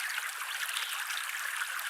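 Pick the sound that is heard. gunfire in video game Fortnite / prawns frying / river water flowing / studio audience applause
river water flowing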